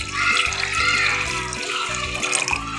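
Water poured into a pot of chicken and vegetable soup on the stove, a steady splashing, gurgling stream running loud and close for a few seconds with no talk.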